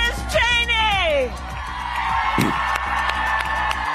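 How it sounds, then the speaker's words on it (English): Supporters at a Harris campaign rally in Ripon, Wisconsin, cheer for Liz Cheney with loud whoops and shouts, then sustained crowd noise and scattered clapping. "Vice President Kamala Harris supporters cheering for Republican Liz Cheney"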